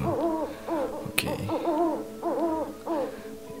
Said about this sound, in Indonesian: Ada suara burung hantu, sangat identik dengan hal-hal serem gitu kan.